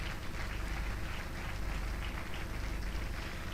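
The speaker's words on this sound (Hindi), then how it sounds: "तालियों के साथ पास्टर मनोहर लाल का स्वागत करें" Steady applause from a church gathering welcomes a pastor forward, continuous broadband clapping with no pauses throughout.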